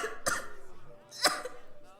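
A cartoon character coughs twice while crying, each cough a sharp, close burst about a second apart, with a faint voice murmuring between them.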